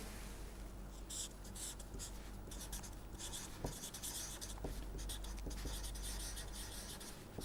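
Marker or pen writing out a drawing on a board during a lecture, a steady scratchy rubbing with short strokes and taps, fairly close and alone without talk.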